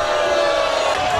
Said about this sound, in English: So what are you booing for?